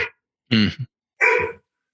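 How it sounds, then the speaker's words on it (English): A pet dog barks indoors during a home podcast recording, giving three short, sharp barks close by with silence between them. "if you can hear my dog"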